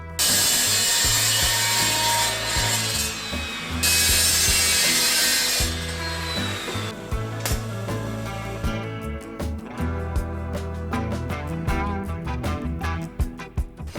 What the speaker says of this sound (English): I'm just gonna cut the header and shove it further upwards